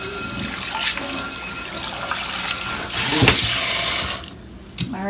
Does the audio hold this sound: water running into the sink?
yes